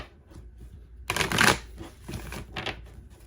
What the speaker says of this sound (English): I had to pre-shuffle these cards, but it's like I want to do it again